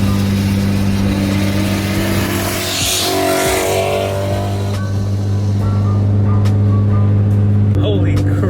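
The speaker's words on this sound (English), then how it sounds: "It sounded like a giant like suction, like a vacuum." A loud tuned Nissan GT-R making around 1,000 horsepower idles and revs with a deep droning hum, then a rising whooshing swell near the middle, and the engine settles back into a steady rumble.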